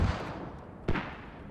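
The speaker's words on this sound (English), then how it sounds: "Another mortar volley goes out." A single mortar round fired in the video game Squad, one sharp boom near the middle of a short quiet stretch, fairly close and standing alone without talk.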